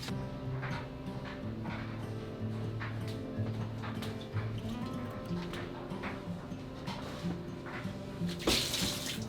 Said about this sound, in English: All we're going to do with this is fill it up with water